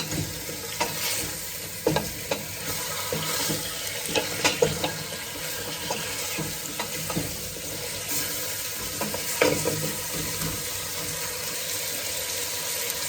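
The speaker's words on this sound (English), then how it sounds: "I think the meat's been browned enough and it's making a big noise" Beef sizzles and crackles in hot oil in a pan for soup, with occasional stirring and scraping sounds, steady and close.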